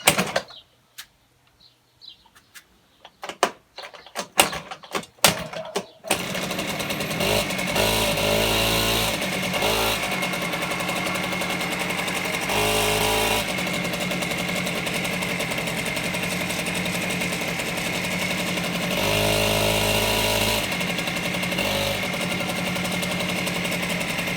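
A Honda Lead 90 scooter with a newly replaced spark plug cranks with a few sputtering attempts, then catches and runs with a steady buzzing engine note, close by, with occasional throttle rises.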